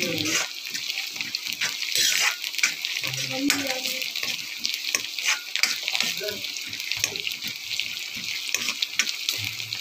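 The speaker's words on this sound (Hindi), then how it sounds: "गैस अब मैं खोल देती हूँ हल्का ही प्याज ब्राउन करने के लिए।" Onion frying lightly in a pan on a gas stove, a busy crackling sizzle with scattered pops and stirring scrapes, close and fairly loud throughout, with a voice talking over it at times.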